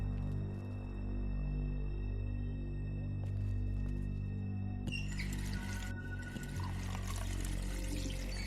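Water pours steadily in a kitchen in The Wolf Among Us video game, a continuous splashing stream over a low room hum that grows louder partway through.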